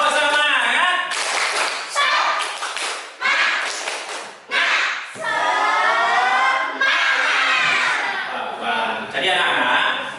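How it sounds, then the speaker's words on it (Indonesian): Schoolchildren in a classroom perform a rhythmic clap chant, sharp bursts of group clapping alternating with chanted voices in a lively, patterned sequence over about ten seconds. "tepuk tangan dulu untuk kita semuanya. Tepuk semangat."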